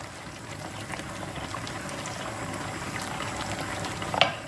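Pasta water in a pot on the stove, bubbling at a steady low rolling boil throughout, with a brief louder clink near the end; no one speaks.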